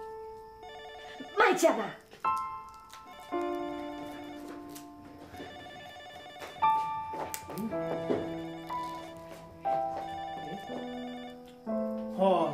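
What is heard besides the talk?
telephone ringing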